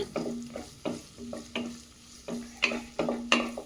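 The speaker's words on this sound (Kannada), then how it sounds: "ಇವಾಗ ಬಾಣಲಿಗೆ ನಾನು ಮತ್ತೆ ಸ್ವಲ್ಪ ಎಣ್ಣೆನ ಹಾಕ್ಕೊಂಡ್ಬಿಟ್ಟು ಜೀರಿಗೆ ಹಾಗೆ 2 ಚಿಕ್ಕದಾಗಿ ಕಟ್ ಮಾಡಿ ಇಟ್ಕೊಂಡಿರೋ ಈರುಳ್ಳಿನ ಹಾಕ್ಕೊಳ್ತಾ ಇದ್ದೀನಿ" Chopped onions and cumin frying in oil in a pan, stirred in distinct scraping strokes about every half second over a soft sizzle, close and moderately quiet with no speech.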